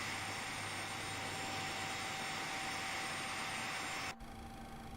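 Turbofan of a Boeing 737 Classic in X-Plane 12 spools up with a steady, loud broadband roar and a sustained whine tone, cutting abruptly near the end to a quieter hum with a lower drone.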